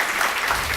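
An audience at a live pizza-making event in a studio space claps in a brief, dense burst of applause.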